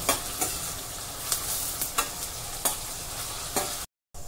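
Onions fry in a pan with an even, close sizzle, punctuated by several crisp scraping taps of a stirring spoon at irregular intervals, then a short cut to silence near the end.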